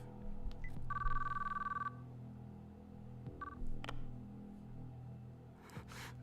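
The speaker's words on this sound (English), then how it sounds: "Oh, he's calling Serica" A phone in the Chaos;Child visual novel dials and rings, giving a clear electronic trill burst followed by a shorter second ring amid soft game music, fairly close and loud with no voices.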